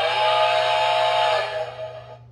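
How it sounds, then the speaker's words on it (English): A steady, shrill toy steam whistle from a New Bright Holiday Express animated toy train set blows loudly for about two seconds, then fades out. "Whistle."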